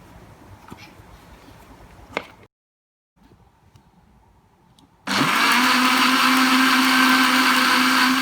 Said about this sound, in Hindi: तो अब बारी है इसको ग्राइंड करने की।